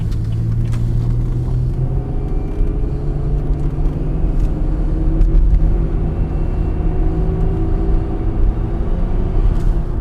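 A 2005 car with a GM 4T65-E automatic transmission, the transmission faulty, cruises on a highway at about 60 mph, its engine and road noise forming a steady loud rumble with a slowly rising whine as it holds speed.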